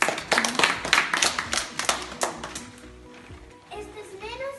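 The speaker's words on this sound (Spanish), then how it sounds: "Muy bien, un aplauso." Brief burst of clapping for schoolchildren at a school flag event, a few quick rhythmic claps near and loud, fading as children's voices and chatter carry on over it.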